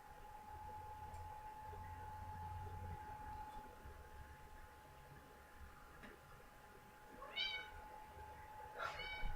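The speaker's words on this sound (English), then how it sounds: "That's my cat." A pet cat gives two short, rising meows near the end, fairly close, against a quiet indoor room with a faint steady hum.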